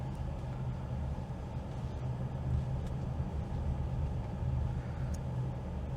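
A 2022 Lincoln Nautilus Reserve II turns a full 360 circle, giving a quiet, steady low rumble of engine and road noise heard from inside the cabin.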